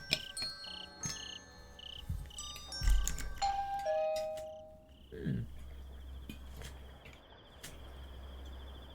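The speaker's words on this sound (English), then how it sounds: "Suddenly, I heard the doorbell ring off in the distance." A doorbell in the video game Higurashi rings far off with a soft two-tone chime, set against a steady bed of cricket and insect chirping, with no voices.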